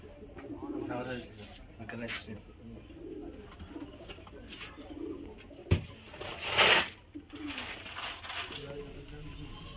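Kalpora Kaldum pigeons of the Giribaz highflyer type give low, soft coos at close range, intermittent amid rustling, a sharp knock and a short louder flutter of noise.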